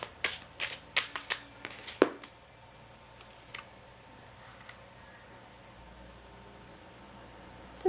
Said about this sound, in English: Now I'm going to start shuffling up your next tarot deck